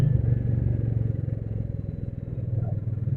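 A Royal Enfield Classic 350 motorcycle rides through congested traffic in Zirakpur, its single-cylinder engine thumping in a steady, loud, low pulsing beat close to the microphone with a faint rumble of surrounding road noise.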